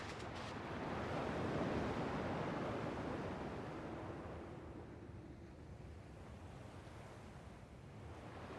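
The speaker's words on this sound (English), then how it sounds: "At least the waves sound the same." Ocean waves washing onto a beach in the Kingdom Hearts 2 video game, a broad continuous surf roar that swells early then eases to a softer steady wash, heard alone without talk.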